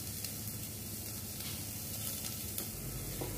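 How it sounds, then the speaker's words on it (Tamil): Onions with a little salt sautéing in a pan as the base for green peas soup, a steady close sizzle with faint stirring and no talk. "இதையும் நல்லா நம்ம வதக்கிக்கலாம்."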